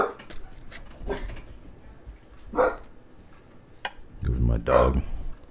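A pet dog named Sherman barks several times indoors, short loud yaps scattered among clicks and handling noises, ending in a louder cluster of barks as someone talks.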